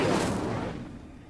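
A fire spell cast in the Hogwarts Legacy video game, a loud, rough burst that flares at once and then rumbles and fades away over about a second, with no voices.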